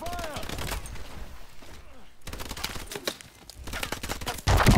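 Rapid gunfire bursts from a futuristic battle in Advanced Warfare, set in New Baghdad, crackling repeatedly and loudly amid chaotic combat noise, with shouted voices underneath and a heavy blast at the end.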